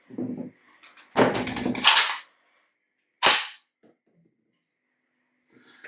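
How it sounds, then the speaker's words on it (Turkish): A shotgun's cartridge release button is pressed and a shell drops free, giving a few sharp, close metallic clacks and rattles in two quick bursts, then a single click after a pause. "Şu düğmeye bastığımız aşağı düşer ve namluya bu şekilde verilir."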